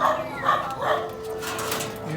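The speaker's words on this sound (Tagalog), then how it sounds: "Yung mga aso." Several dogs bark in short bursts around a passer-by on a jog, a few close yips and woofs with faint background noise.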